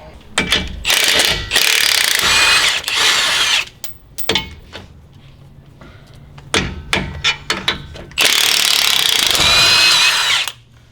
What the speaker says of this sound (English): we're gonna take off the nuts off the bottom of the U-bolts